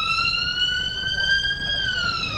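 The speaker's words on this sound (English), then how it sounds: "There's the alarm again." A steady rising and falling wartime alarm siren wails continuously in the strategy game RUSE. It is loud and close over a busy low rumble of background noise.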